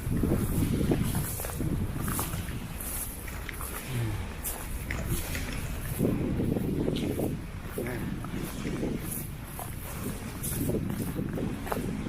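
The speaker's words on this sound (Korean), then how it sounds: "이 풍력 발전기 소리 좀 들어보세요" A wind turbine on Jeju Island whooshes in strong spring wind, with broad rushing gusts that swell and fade in slow, repeating waves under heavy wind buffeting and people talking.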